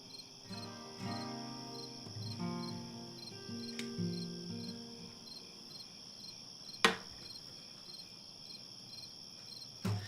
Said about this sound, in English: We need some crickets.